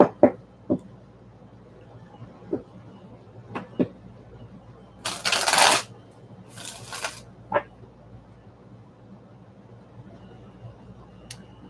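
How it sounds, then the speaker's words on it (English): Tarot cards being shuffled by hand: soft, scattered riffles and taps come in short bursts, with one longer, louder flurry of card noise partway through, close and quiet in an otherwise still room. "So here I am just shuffling my tarot cards"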